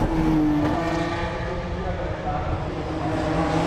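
A BMW Z4 and a BMW 1 Series race hard together in a Supersport 1 class race at the Red Bull Ring, a loud sustained roar of racing engines with a brief whining tone, under continuous commentary.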